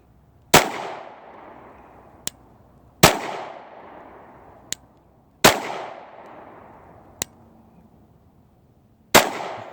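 Glock 26 compact defensive handgun fired at a shooting range: four loud, sharp shots spaced about two and a half seconds apart, each trailing off in a ringing echo, with faint clicks in between.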